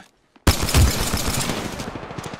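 Gunfire in Apex Legends erupts suddenly after a brief silence, a loud, rapid burst of automatic shots close by that continues in quick succession.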